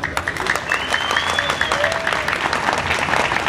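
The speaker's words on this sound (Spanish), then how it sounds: "Otra vez, solo aplausos" Applause from a festival crowd in Medellín, a dense steady clapping that stays loud throughout, with a whistle-like tone drifting over it and some voices mixed in.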